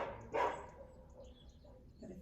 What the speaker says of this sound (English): There's nothing like a dog barking to pull you out of Savasana.